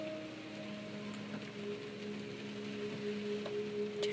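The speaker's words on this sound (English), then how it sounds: "Just listen to the music and listen to the rain" Gentle rain falls in a soft, even patter beneath quiet sustained musical tones, faint and steady with no voices.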